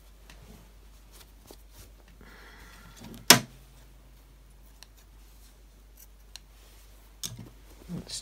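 Scissors make a single sharp snip while trimming fabric during a sewing project for a catch-all caddy, with quiet handling rustles and light taps before and after.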